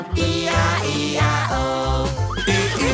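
A horse neighs and whinnies in a French children's farm song, a series of bright, wavering calls over the music's steady backing, heard loud and close.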